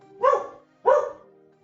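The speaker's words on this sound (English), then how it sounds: "Hey, what are you barking at?" Two distinct barks from a dog indoors, a single sharp bark followed by a second about half a second later, fairly close and clear with no talk over them.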